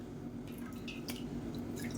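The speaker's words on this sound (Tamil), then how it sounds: "இந்த ப்ரெட்டை வந்து நம்ம ஒன்று ஒன்றா தண்ணியில் நினச்சி நல்லா புழிஞ்சிட்டு இன்னொரு பவுலில் சேர்த்துக்கலாம்" Soaked bread slices being squeezed by hand, with wet dripping and squishing noises close by over a steady low hum, as water is wrung out for a quick children's snack.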